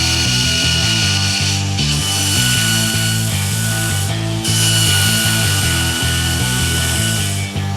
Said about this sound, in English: we can either use the bandsaw to cut off that extra material or use this grinder to just get rid of that excess meat